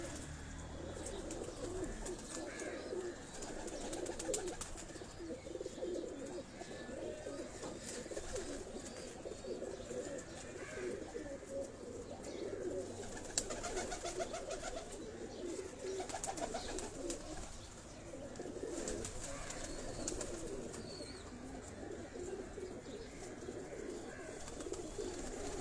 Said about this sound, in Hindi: ये वो जौंसरे कबूतर हैं